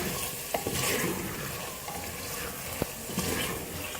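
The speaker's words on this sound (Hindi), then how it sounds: "अब इसमें मैं आलू शामिल करूँगी, उसको भी साथ भूनेंगे।" Cubed potatoes and meat fry together in a pot over high heat for an aloo gosht curry, giving a steady low sizzle with occasional stirring clinks.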